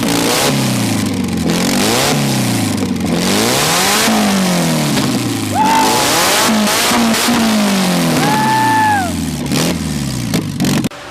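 A Mazda Miata engine with a DIY turbo kit revs hard again and again to blow slag out of the exhaust, roaring up and down in loud repeated bursts, with whistling tones rising over the exhaust noise.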